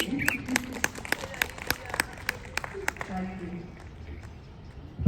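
A small audience at a book talk session in Jaipur claps in a brief, fairly sparse run of distinct claps, followed by quieter talking.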